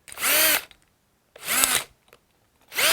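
Three short bursts of a power drill fitted with a Diablo Snap Lock Plus hole saw whining up and stopping, loud and close, with brief quiet gaps between.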